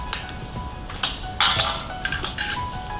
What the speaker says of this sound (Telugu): కొద్దిగా ఐస్ క్యూబ్స్